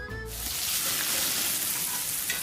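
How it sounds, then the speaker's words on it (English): Loud, continuous sizzle of meat frying on a hot grill, a dense hiss that holds steady from start to finish. "We know that juicy, cheesy, grilled to perfection burger sounds amazing"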